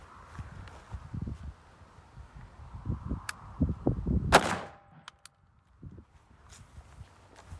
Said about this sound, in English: we're just gonna fire a single round and see what happens